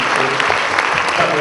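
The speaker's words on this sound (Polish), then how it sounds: "to jest miejsce na pierwsze brawa" Audience applause at a film premiere event in Białystok: a brief burst of dense, loud clapping from a full hall, steady throughout.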